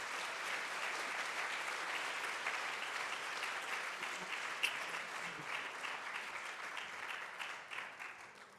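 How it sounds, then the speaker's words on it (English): A conference audience applauds its speakers: a sustained, even wash of many hands clapping, moderately distant and fairly soft. It thins slightly near the end, with a single sharper clap standing out midway. "could we just give our excellent speakers a round of applause?"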